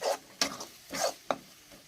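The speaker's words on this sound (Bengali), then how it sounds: "দেখছো একদম অল্প একটু পেঁয়াজ দিয়েছি, ওর মধ্যে লাল হোক, ভাজা হয়ে গেলে তারপরে আমি চিকেনটা দিয়ে দেবো।" Onions fry in a pan for Bengali chicken, with short bursts of stirring and scraping over a soft sizzle, close by and uneven in rhythm.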